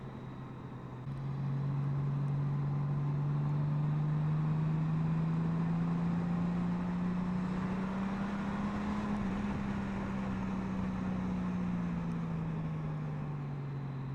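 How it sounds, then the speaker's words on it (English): A 2021 Honda Gold Wing motorcycle with manual transmission drones steadily with a deep, throaty exhaust note that rises slightly and falls back over several seconds, without speech. "Nice throaty exhaust."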